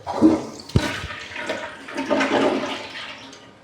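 A Kohler toilet in a hotel bathroom flushes nearby with a sharp click, then a rushing, gurgling surge of water that gradually drains away.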